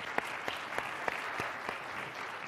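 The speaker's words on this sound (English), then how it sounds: "Please give a nice round warm of applause for him." Applause at a conference keynote session on post-pandemic leadership, sparse and faint: a handful of distinct, evenly spaced claps stand out over quiet room noise rather than a full ovation.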